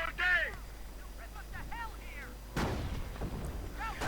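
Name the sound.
gunfire in video game battle, Pak-38 firing at M4 Sherman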